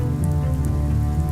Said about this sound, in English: Clouds return water to Earth in the form of rain and snow.